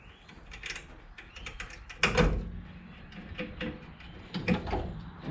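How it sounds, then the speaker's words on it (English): A ratchet wrench clicks in short bursts while working on a Datsun 521 mini truck, with a few sharper metallic knocks mixed in, close and moderately quiet, no talk. "Ratchet."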